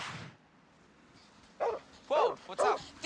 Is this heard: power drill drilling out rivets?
no